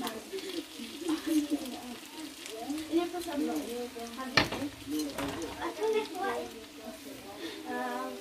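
Spices fry in hot oil in a pan, a soft continuous sizzle with scraping stirs, heard under steady talk with one sharp clink midway.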